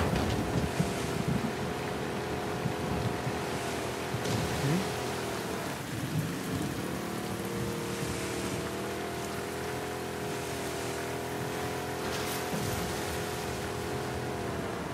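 A boat motor drones steadily on water in The Last of Us Part II, its engine hum layered with rain and rumbling thunder from a storm, continuous throughout with no talk.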